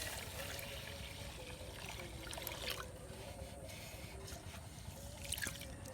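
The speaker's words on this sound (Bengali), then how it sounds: "এই যে রাশেদ চাউল আর ডাউল ধুতেছে।" Rice and lentils are washed by hand in water in a village setting, giving soft trickling and sloshing with small splashes, faint and close, with no talk.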